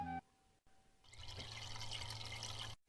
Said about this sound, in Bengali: ওষুধে জল মেশাচ্ছেন কেন?